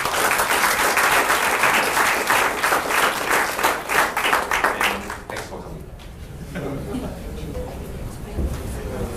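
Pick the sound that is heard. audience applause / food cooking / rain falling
audience applause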